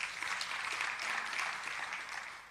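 An audience applauds dignitaries at a studio unveiling in Pretoria, even sustained clapping from a sizable crowd, moderately distant and continuous.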